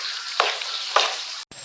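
Fish frying in a pan, a dense continuous hiss of hot oil with two brief louder crackles, cutting off abruptly near the end before the sizzle resumes.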